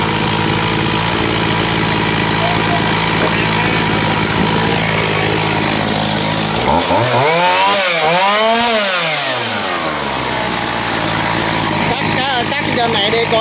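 A chainsaw cuts a coconut tree beside a house, droning loud and steady up close, then rising and falling in pitch as the engine revs hard through the trunk.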